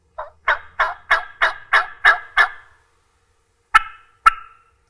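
A mouth reed turkey call imitates a hen: a run of eight evenly spaced sharp yelps, then two more after a pause, close and clear with no voices.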